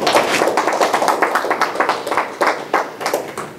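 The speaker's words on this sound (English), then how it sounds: "let's get a round of applause for them" Conference audience applauding the faculty after a talk introduction on flexible silicon brain-machine interfaces, a dense, steady wash of many hands clapping close by with no voices over it.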